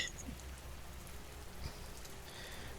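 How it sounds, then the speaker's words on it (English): Steady rain patters on a surface as a background ambient effect during a tabletop roleplaying game session set in a Cyberpunk world, a soft even hiss with a few faint drops. "You want the rain to stop?"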